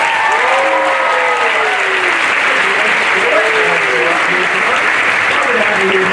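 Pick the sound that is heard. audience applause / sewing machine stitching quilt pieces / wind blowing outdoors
audience applause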